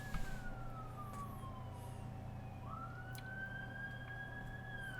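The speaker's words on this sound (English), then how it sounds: "What's with all the bloody ambulances?" Ambulance sirens wail in the distance, rising and falling tones sweeping slowly over a steady low rumble of background noise, faint and continuous without any talk.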